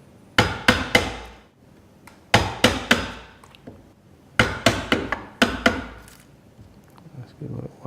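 A hammer drives a Marples splitproof chisel into wood in sharp, loud, close knocks, grouped in three quick bursts of two to four blows with short pauses between them.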